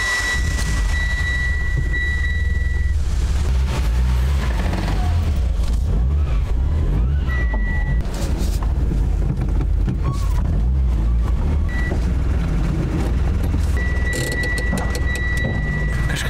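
A car engine runs loud and close while the car is loaded onto a tow trailer, a continuous low rumble with intermittent mechanical whines and clanks throughout.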